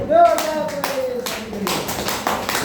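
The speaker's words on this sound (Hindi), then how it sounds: "आप सभी के लिए जोरदार ताली।" Clapping from an audience at a Hindi-language talk, a loose patter of hands that builds into a brief round, with a voice speaking over the start.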